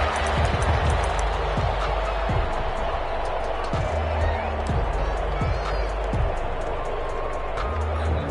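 Crowd roar fills a stadium in an NFL video game, Saints against Falcons, with a steady cheering wash, scattered claps and thumps running throughout.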